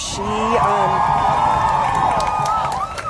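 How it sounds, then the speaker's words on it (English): Protest crowd at an abortion rights rally in Cocoa, Florida, cheering and whooping loudly and close by, with rising and falling voices blending into a sustained roar for about three seconds. "So, this is our crowd."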